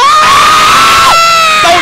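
Very loud roar of a fighting game tournament crowd at the Capcom Pro Tour 2019 event in Akuma vs Birdie play, shouting and screaming in a dense wall of cheering close up, with a high whistle-like tone running through it.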